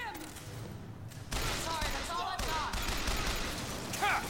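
Repeater gunfire in the video game Bioshock Infinite: a steady burst of rapid shots and thuds at close range, with game noise and a voice over it.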